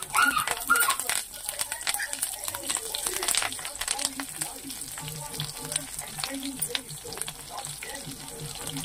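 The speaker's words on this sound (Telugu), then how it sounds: "ఇప్పుడు కొంచెం కరివేపాకు వేసుకోవాలి." Curry leaves added after mustard seeds crackle and sizzle in hot oil for tomato chutney, a steady loud frying hiss with scattered pops and spatter, stirring clinks, and talk running over it.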